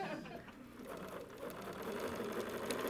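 A sewing machine stitches quilt pieces from top to bottom in a steady, fast, even whirr, fairly faint and close, with a voice faintly in the background.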